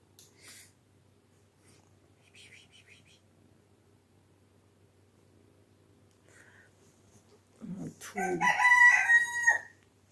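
A rooster lets out a loud, close crow near the end, following a long stretch of quiet with only faint scattered chicken noises in the background.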